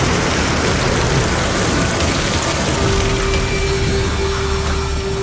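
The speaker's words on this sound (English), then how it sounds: "After 2 hours of heavy rain, the storm passes" Heavy rain pours steadily in the southern Rhodope mountains of Bulgaria during a storm, a dense, loud, unbroken hiss with a faint steady tone entering partway through.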